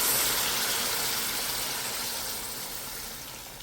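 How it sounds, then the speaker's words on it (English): Hot water poured into a pot of salted beef cooking on a kitchen stove gives a steady, close rushing hiss that slowly eases off, with no voices. "Now going to add my hot water"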